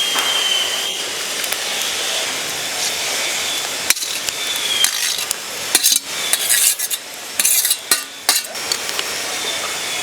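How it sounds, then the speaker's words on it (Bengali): Fried vegetables tip into a pot of simmering rice for coconut khichuri, a steady bubbling hiss giving way to a cluster of clattering spoon and pot knocks near the end; no speech. "এবার দিয়ে দেবো ভেজে রাখা সবজি।"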